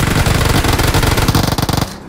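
Loud rapid automatic gunfire in a shooting video game, a fast continuous burst of close shots lasting nearly two seconds before cutting off abruptly.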